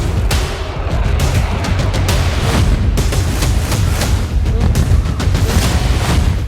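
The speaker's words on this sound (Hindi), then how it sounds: "सिलसिलेवार बम धमाके" A series of bomb explosions in a war zone, with loud, rapid, repeated booms and blasts piling on one another over rumbling background.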